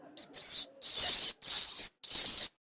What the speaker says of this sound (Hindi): चूहों की आवाज है क्या?